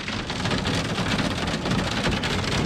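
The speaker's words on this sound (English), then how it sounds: "It is hailing." Hail falling hard on a truck, a dense, loud, continuous drumming and pelting with no pauses, heard from inside the vehicle.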